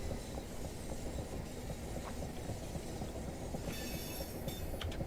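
A train rolls along the Portsmouth Direct Line in Train Simulator, a steady rumbling wheel-on-rail roar with faint rhythmic clicks and a brief high squeal near the end.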